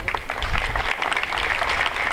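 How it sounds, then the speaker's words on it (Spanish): Crowd applause at a public event in Caballococha, Loreto, honoring a donation for schoolchildren, a sustained, fairly loud burst of many hands clapping with a few voices underneath. "Fuertes aplausos para esta importante donación del sector de educación para nuestros niños"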